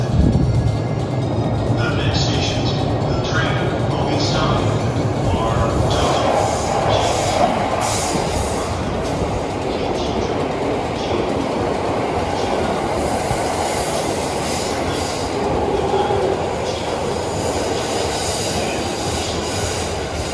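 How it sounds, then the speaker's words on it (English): Train at a station on the Kamakura line in Japan, with steady rolling rumble, squealing wheels and clickety-clack close by, while a voice talks faintly beneath. "Kamakura is on its own railway line, so you can already see the platform"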